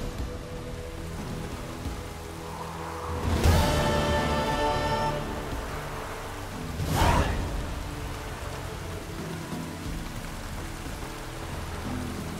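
Steady rain hisses throughout in The Witcher 3: Wild Hunt, with two louder swelling rushes like gusts passing through, and no voices.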